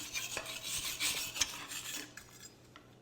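An aluminum stick weld being cleaned off, giving close, scratchy scraping and brushing strokes in quick uneven passes that fade out near the end.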